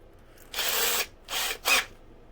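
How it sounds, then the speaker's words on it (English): A power driver tightens screws on the shock tower of an Arrma Kraton or Bigrock RC car: three short whirring bursts, the first longest, close and fairly loud, with quiet gaps between. "we're just going to tighten those screws up"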